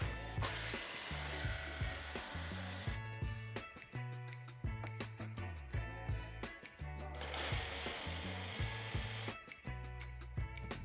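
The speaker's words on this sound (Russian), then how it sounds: "Для этого я возьму лобзик и спокойненько выпилю." A jigsaw saws a small square out of a wooden plate, buzzing and rasping close up in a steady rhythm with brief surging bursts.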